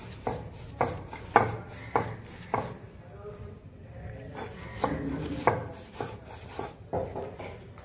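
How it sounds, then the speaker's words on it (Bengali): Coconut and jaggery being ground on a flat grinding stone, a steady rhythm of rough rubbing strokes repeating roughly every second, close and moderately loud, with faint voices in the background. "এই নারকেল আর এই গুড়টাকে শিলে বাটবে"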